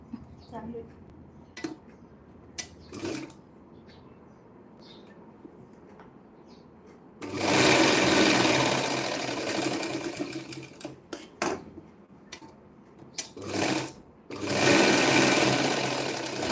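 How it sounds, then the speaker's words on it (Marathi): Bursts of a sewing machine stitching a blouse shoulder run loud and close for several seconds at a time, with scattered clicks, fabric handling and pauses in between. "पाच नंबर शिलाई मारायची नंतर डबलची शिलाई मारून घ्यायची म्हणजे पक्की शिलाई"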